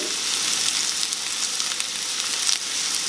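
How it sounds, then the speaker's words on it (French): Onions frying in hot oil, a steady, dense sizzle that stays at the same level from start to finish, close and fairly loud with no voices over it. "Quand c'est chaud, je vais commencer par les oignons."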